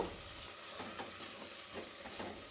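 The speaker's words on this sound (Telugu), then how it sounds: "ఇప్పుడు ఈ కొత్తిమీర పుదీనా యాడ్ చేసిన తర్వాత ఒకసారి బాగా కలపండి" Mutton pulao being stirred in a pressure cooker pot after fresh coriander and mint are added, giving soft, faint scraping strokes over a low, steady sizzle with no talking.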